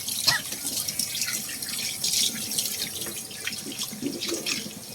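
Tap water runs steadily into a sink as raw pork sticks are rinsed by hand, a continuous close splashing stream with intermittent drips and handling sounds, no voices.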